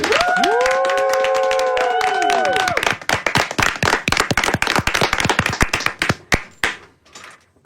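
Applause and clapping from staff in a radio station's master control, a dense burst of many hands clapping at close range, with tones and voices over the first few seconds, then thinning to scattered claps before fading out.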